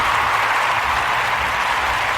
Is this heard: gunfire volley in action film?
no